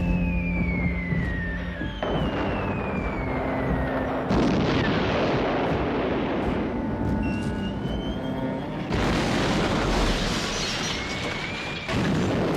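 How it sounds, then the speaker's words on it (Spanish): Bombing explosions from the June 1955 air raid on Plaza de Mayo in Buenos Aires, heavy booms and rumbling blasts layered with whistling, falling tones, loud and continuous throughout with no talk. "Bombardeo a Plaza de Mayo."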